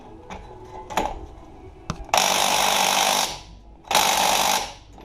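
Impact wrench with a non-impact 24 mm socket on a front strut bolt of a 2007 Honda Ridgeline, firing two loud close hammering bursts, the first about a second long, after a few clicks and clunks.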